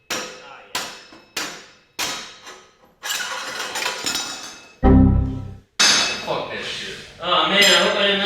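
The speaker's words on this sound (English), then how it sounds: "now we're going to hit it with a hammer and get this whole thing out" A hammer strikes a metal part of a Coleman KT196 minibike sharply about five times in a steady rhythm, each ringing hit decaying, followed by louder clanging and rattling.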